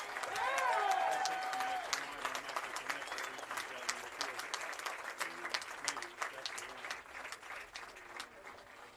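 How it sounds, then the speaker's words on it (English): Sustained applause from a sizable crowd, dense clapping that stays strong then gradually thins and tapers, with some voices mixed in. "a big round of applause for the 2024 2A state football champions"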